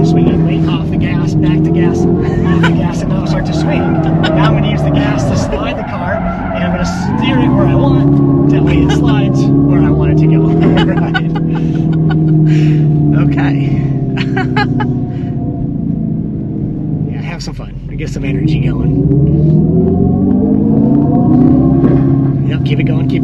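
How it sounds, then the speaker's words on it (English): A 2025 Dodge Charger Daytona Scat Pack slides with stability control off, its electric drivetrain whining and rising and falling as the throttle is worked, loud and close, with tire noise and someone talking throughout. "Now I'm going to use the gas to slide the car"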